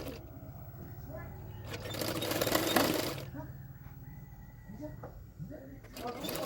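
A sewing machine stitching part of a double katori bra-cut blouse runs in a short, faint burst of rapid whirring mid-clip, with quiet background sounds around it.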